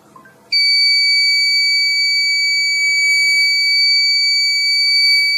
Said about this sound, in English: Start alarm.